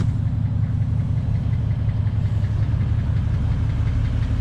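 A 1991 Mercedes-Benz 420SEL idles, its engine humming steadily, with a faint rhythmic ticking running through the low rumble, close up and without voices.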